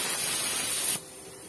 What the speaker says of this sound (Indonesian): ini safety valve sudah membuka